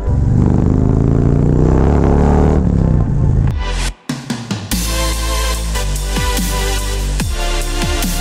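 A Harley Road Glide with a Feuling 465 Reaper cam revs loud and close: a steady, deep harmonic rumble cuts out abruptly, then returns as a rougher, clattering roar with sharp blips.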